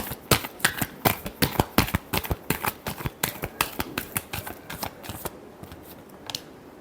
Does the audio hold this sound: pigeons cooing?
no